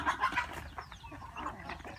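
Native free-range chickens, young birds kept in a bamboo grove, cluck close by in a quick run of short, throaty calls that overlap over a couple of seconds.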